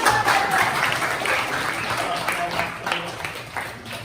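Classroom applause from students after a reading, a dense burst of clapping that stays loud then slowly thins out toward the end, with some chatter mixed in.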